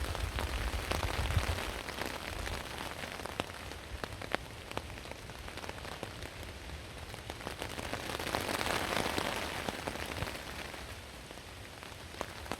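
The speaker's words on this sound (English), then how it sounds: "that's the sound of rain." Heavy rain shower drumming steadily on a camping tarp, a dense hiss with scattered sharper drop hits, swelling slightly midway, with no one speaking.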